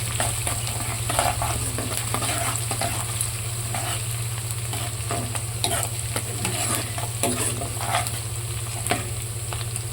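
Onions fry in a pan with curry leaves, a constant loud sizzle near at hand, broken by repeated scraping stirs of a spatula, with a low steady hum underneath and no talking.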